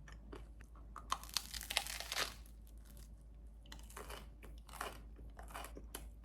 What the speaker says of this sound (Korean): 역시나 바게트가 완전 단단하고 속은 촉촉하고 엄청 고소워